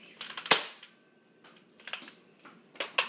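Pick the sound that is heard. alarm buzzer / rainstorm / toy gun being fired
toy gun being fired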